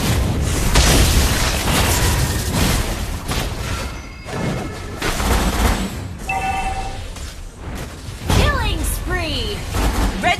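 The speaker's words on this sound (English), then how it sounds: "team base turret has been destroyed." A team base turret is destroyed in a multiplayer battle game. Repeated booms and bursts sound amid whooshing and whistling effects, with loud clusters of blasts near the start and end, and voices speaking over the action.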